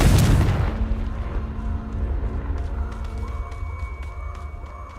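A Confringo blasting spell in Hogwarts Legacy on PS5 detonates with a loud, deep boom at the start, then trails into a rumbling, ringing decay with faint crackles.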